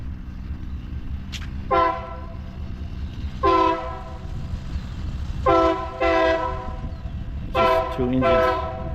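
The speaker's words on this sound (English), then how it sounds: "Hear a train over there." A train with two locomotives sounds its horn in several short blasts and longer toots over a low rumbling background, heard from some distance.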